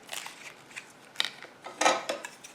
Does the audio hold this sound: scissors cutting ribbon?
yes